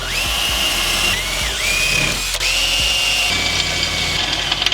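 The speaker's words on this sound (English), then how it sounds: "I'm going to drill out what holes that I can" A power drill whines steadily at high pitch, pausing and spinning back up several times as it bores through material, close and loud.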